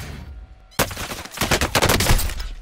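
Gunfire in the video game Call of Duty Warzone, loud close bursts of rapid automatic shots crackling in quick succession after a brief quiet lead-in.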